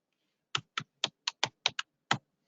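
Eight crisp, separate keystrokes on a computer keyboard, tapped at an uneven pace in an otherwise quiet room.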